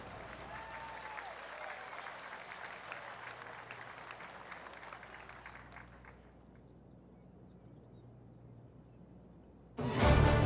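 Virtual gallery crowd applauding at the end of a golf tournament in PGA TOUR 2K25, a dense, sustained clapping that fades away, followed by a sudden loud burst of sound at the very end.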